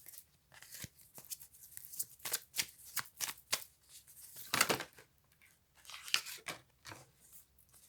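Tarot cards being shuffled by hand, a quick run of crisp riffling bursts and soft slaps, close and fairly quiet, with no talking.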